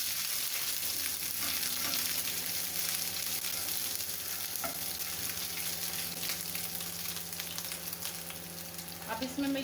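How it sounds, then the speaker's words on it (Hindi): Garlic lightly sautéing in a pan, a continuous close crackling sizzle for nearly ten seconds with occasional stirring scrapes, fading slightly toward the end, no voices. "लहसुन को बस हल्का सा सौते करूंगी।"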